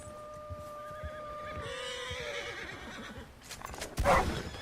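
An agitated horse in the Red Dead Redemption 2 video game gives a long, loud whinny, followed by snorts and a few hoof clops, with a sharp burst of movement near the end.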